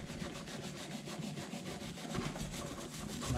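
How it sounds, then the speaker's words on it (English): Harsh steel brush scraping carbon off the top of a BMW engine piston coated in oven cleaner, a steady rhythmic rubbing and scrubbing at close range. "we're scraping the top of the piston with the harsher steel brush"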